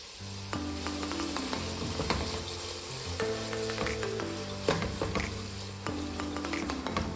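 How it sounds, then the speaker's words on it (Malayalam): Vegetables seasoned with salt sizzle as they sauté in a pan, a steady frying hiss with scattered stirring clicks and scrapes, close and moderately quiet, no voices. "ഇതിലേക്ക് 1/4 ടീസ്പൂൺ ഉപ്പിട്ടിട്ട് വെജിറ്റബിൾസൊക്കെ ഒന്ന് നന്നായിട്ട് വഴറ്റിയെടുക്കാം"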